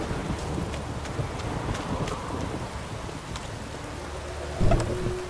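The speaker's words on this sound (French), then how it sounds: "Un orage. Manquait plus que ça." Steady rain pours down during a thunderstorm in the video game The Witcher 3, a dense continuous hiss with faint low rumbling beneath and a brief louder thump near the end.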